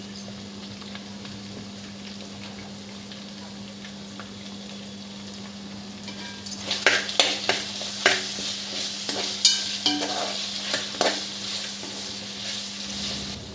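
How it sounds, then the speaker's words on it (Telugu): Mutton keema frying uncovered in a pan sizzles softly at first, then turns into louder, irregular scraping and stirring with crackling bursts through the second half, all close with no talking. "కీమా వేసుకున్న తర్వాత మూత పెట్టకుండా వేయించుకోవాలండి."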